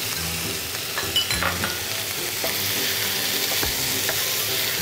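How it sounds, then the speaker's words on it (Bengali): Beetroot being stirred into a colourful frying dish in a pan, giving a steady, close sizzle with scraping stirs across the whole stretch and no talk. "একটু নেড়ে নিয়ে এই যে বিটটা দিয়ে দিলাম।"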